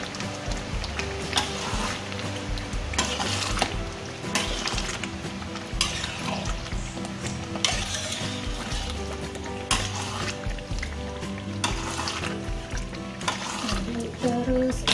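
Beef rendang with peanuts and jengkol is stirred steadily in a pan, a continuous scraping and clinking over a constant sizzle, close and busy, with a voice speaking at times.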